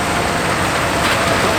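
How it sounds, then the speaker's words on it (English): An automatic side loader garbage truck's engine running nearby: a loud, steady, unbroken rumble with a broad roar and no breaks. "I think it's an automatic side loader"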